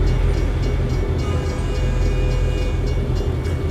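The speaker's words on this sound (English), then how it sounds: "Oh, we're getting a train." Dense, continuous rumbling roar of a train passing in American Truck Simulator, loud and steady throughout with faint rhythmic rail clatter and no talking.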